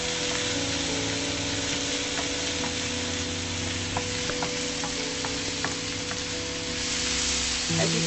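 Onions sautéing in a little oil for a Filipino mung bean dish with shrimp and chicken, a continuous close sizzle with light spoon clicks and stirring scrapes, plus a faint steady hum, no talking.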